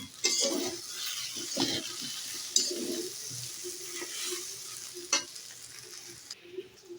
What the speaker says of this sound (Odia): ତାପରେ ଏଠି ଶାଗ ଭାଜିବା।